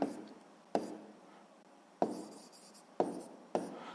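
A hand writes the answer to a sixth-grade maths exercise in several short strokes of pen or chalk, close and quiet, with brief pauses between them.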